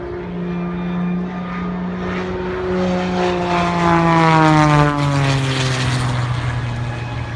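A Cessna 185 propeller plane climbs, its loud droning engine with steady tonal hum rising and shifting in pitch as it passes close by, with no voices over it.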